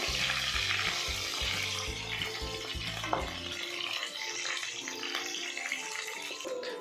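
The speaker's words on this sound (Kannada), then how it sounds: "ಇದನ್ನು ಲೋ ಟು ಮೀಡಿಯಮ್ ಫ್ಲೇಮಲ್ಲಿ ಒಂದು 10 to 15 ಮಿನಿಟ್ಸ್ ಫ್ರೈ ಮಾಡ್ಕೋಬೇಕು" Brinjal frying in a pan over low to medium flame, a steady soft sizzle with faint stirring, a rhythmic thumping at first that then drops away, no speech.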